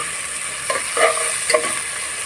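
Egg dopiaza ingredients are stirred in a hot pan with salt, a continuous bright sizzle with a few soft scraping strokes of the spoon near the middle, close and without voices.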